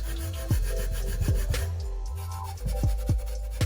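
A Scotch-Brite scrub pad rubs back and forth over an aluminum surface in short, rhythmic scratchy strokes, close and fairly quiet, with no talking.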